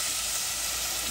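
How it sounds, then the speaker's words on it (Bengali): Masoor and mung lentils sizzle and fry in a pan with onion, a steady dense crackling hiss that stays close and continuous throughout, with no talk over it. "দিয়ে দেবো পেঁয়াজ, ভাজা ভাজা হোক ডালটা।"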